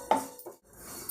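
A utensil scrapes and clinks against a pan as oats are stirred while dry-roasting, two short close knocks with a quiet gap between, no voices.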